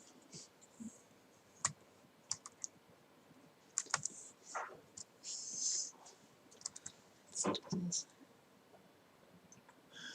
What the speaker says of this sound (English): I'm back at the keyboard